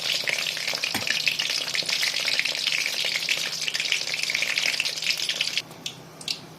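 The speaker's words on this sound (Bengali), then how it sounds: "উল্টে নিয়ে লো ফ্লেমে ভাজতে হবে, তাহলে জিনিসটা কড়কড়ে হবে, মুচমুচে হবে" Pumpkin flower fritters frying in oil over a low flame give a steady, close, crackling sizzle that drops to a quieter hiss near the end.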